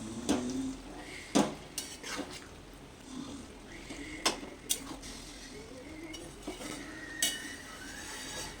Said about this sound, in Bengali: এরকম করে একটু ছেচকি দিয়েই ভেঙে ভেঙে দিচ্ছি